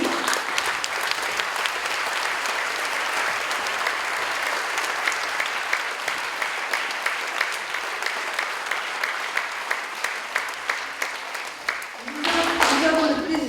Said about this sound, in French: Et je vous demande d'applaudir ceux qui sont loin de nous.